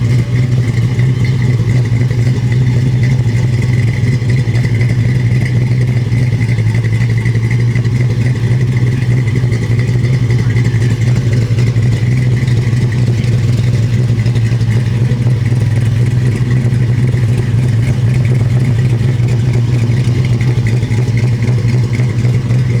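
1970 Dodge Charger 500 with a V8 engine idling, a loud, steady low rumble that holds evenly throughout with no revving and no talking.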